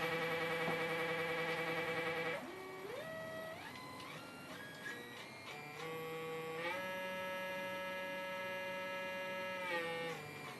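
A 24-volt stepper motor driving a homemade rotary welding positioner whines with tonal, stepped pitches that glide and jump as its speed changes, quiet and close over a steady electrical hum.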